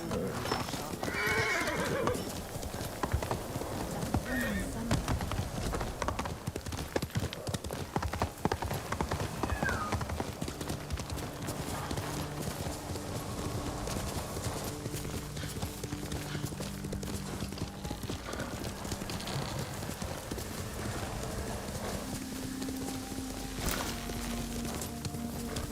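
A horse in the video game Ghost of Tsushima gallops with steady clip-clopping hooves and neighs loudly, set against constant ambient game noise, with faint voices in the background.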